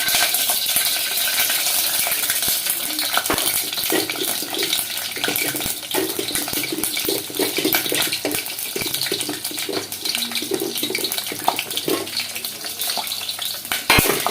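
Spices, coriander and curry leaves sizzle and crackle in hot oil for a tempering in home cooking, a dense continuous frying hiss with scattered sharp pops, close and fairly loud throughout.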